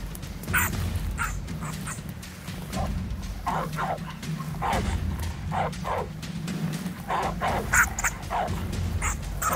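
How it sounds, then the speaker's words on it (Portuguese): A pack of wild dogs growls and snarls over a steady low rumble, with short sharp yelps and barks breaking through now and then. The noise is dense and continuous, and no one talks. "encarando a matilha de cães selvagens que rosnavam ferozmente, mostrando suas presas afiadas"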